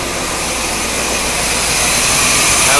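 A 1977 Corvette barn-find V8 engine idling at about 900 RPM: a loud, continuous broadband rumble and hiss heard up close, rising slightly in level over a few seconds with no talk.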